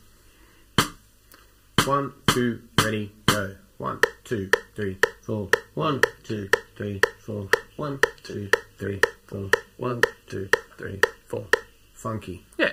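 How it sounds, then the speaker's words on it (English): A metronome clicks steadily on the upbeat eighth notes, sharp and evenly spaced, while a voice counts the beats aloud over it and briefly speaks at the end. "let's have a listen to the click by itself"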